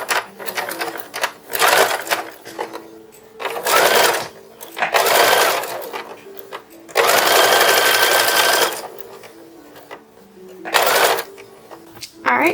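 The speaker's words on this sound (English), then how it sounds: "now we're going to stitch this down" Sewing machine stitching down the neckline of a 1910s-style infant dress, running in several bursts of rapid whirring lasting one to three seconds each, separated by short pauses, close and loud.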